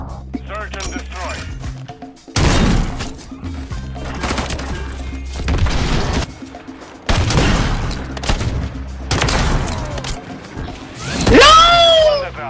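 A newly unlocked gun fires in an online one-on-one shooter match, with several loud bursts of rapid shots split by short pauses and a rising whoosh at the end.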